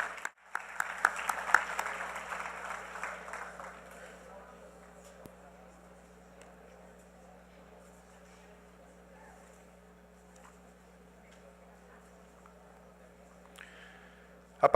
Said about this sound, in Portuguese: Podemos receber os nossos painelistas com uma salva de palmas